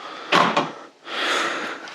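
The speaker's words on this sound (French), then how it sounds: "Maintenant, je vais pouvoir dégonder ma face de tiroir." Wooden drawer front being lifted off its hinges during a van conversion: two quick close clunks and scrapes, a short pause, then a longer sliding rub, with no voices.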